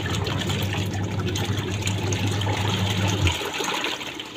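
A MIKA portable top-load semi-automatic washing machine churns detergent into water, a steady loud motor hum with sloshing that runs continuously and then cuts off near the end.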